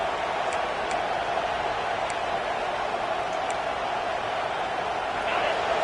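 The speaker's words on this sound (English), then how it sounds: "This crowd bringing the energy and noise early." A stadium crowd at a football game makes a steady, loud roar of noise and cheering. Broadband crowd noise is sustained throughout, with faint scattered whistles.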